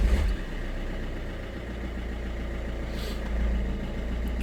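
A car engine runs at a steady idle, a low constant rumble heard close up with a brief rise in revs around the middle, with no voices.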